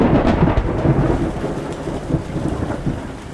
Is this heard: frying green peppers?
no